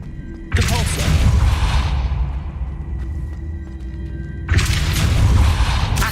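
Two heavy booming magical blasts from a Depulso spell in Hogwarts Legacy, each a loud whooshing burst that lingers and fades, the second arriving a few seconds after the first.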